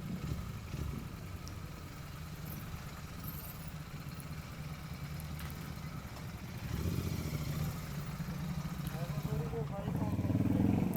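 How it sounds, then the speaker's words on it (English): A motorcycle engine idles and revs during a night ride in Chennai, a low throbbing rumble that swells with short blips of throttle, heard beneath people talking. "I shouldn't be revving, maybe."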